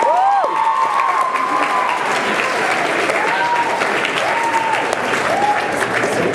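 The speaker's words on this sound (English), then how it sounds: "one more round of applause for everyone that won." Applause for award winners at a state debate tournament closing session fills the hall, steady and sustained clapping from a large crowd with a few faint tonal sounds over it.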